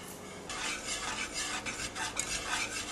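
Whisk scraping steadily around a bowl as cold unsalted butter chunks are beaten into a mixture, a continuous brisk stirring texture of wire against the bowl, close and moderately loud.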